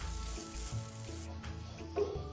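Dried shrimp sambal being stir-fried in a pan with a steady sizzle, a spatula scraping and tossing at intervals, fairly close with no talking.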